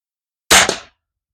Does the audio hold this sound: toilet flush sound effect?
no